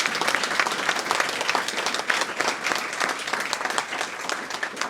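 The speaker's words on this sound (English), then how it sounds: "I think we need to clap a hand for him and the team first." An audience at a pitching competition winner announcement applauds the founder and his team, with many hands clapping briskly and evenly at moderate volume throughout and no speech on top.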